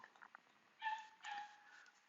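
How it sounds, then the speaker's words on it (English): Dog giving a couple of faint, distant yelps and whining barks, thin and muffled against a quiet indoor background. "Sorry about the dog barking."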